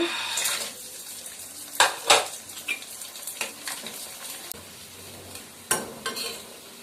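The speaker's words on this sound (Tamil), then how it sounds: "ஃப்ரெஷ்ஷாக வேப்பம்பூ பறித்து காய வச்சு போட்டால் பக்கோடா வத்தல் இப்போ இதை பொறிச்சு பார்க்கலாம்" Neem flower pakoda vathal frying in hot oil in a kitchen pan, a steady close sizzle with scattered sharp crackles and spatters, alone without talk.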